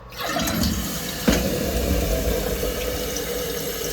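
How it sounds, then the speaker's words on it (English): A toilet flushes right after a flapper repair, water rushing steadily and loudly close by for several seconds with a continuous gurgling roar and no talking. "now I'm going to flush it for the first time and let's see if the flapper works"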